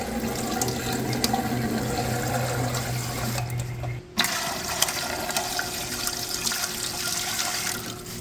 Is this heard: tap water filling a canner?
yes